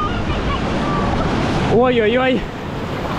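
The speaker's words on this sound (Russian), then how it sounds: "Вот, кстати, волна идет вообще какая козырная." Steady roar of ocean waves breaking at a surf beach in Sri Lanka, a continuous wash of surf with wind noise, while a voice shouts briefly over it.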